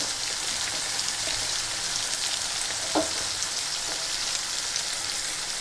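Masala paste frying in a pan with fried sea clams, a constant loud hiss of sizzling oil with an occasional soft stir.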